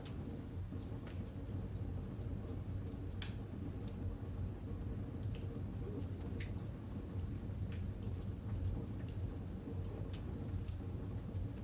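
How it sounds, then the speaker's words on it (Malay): Heavy rain pours steadily, with thunder rumbling low and continuous underneath, a dense, even storm soundscape with no voices. "Ketika malam semakin lewat, hujan juga semakin lebat."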